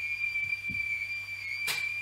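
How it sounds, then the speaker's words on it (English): A thin, steady high whistle holds unbroken for about two seconds at low level, with a few soft low thumps early on and a brief hissy burst near the end. "The whistling sounds."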